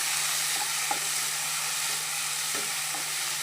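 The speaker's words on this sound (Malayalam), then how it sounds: "എന്നിട്ട് നമുക്ക് നല്ലപോലെ ഒന്ന് വഴത്തി വഴറ്റിയെടുക്കാം" Cut tomatoes sautéing in a pan with mango for a prawn curry, giving a constant hissing sizzle with a few faint stirring taps, close and steady throughout.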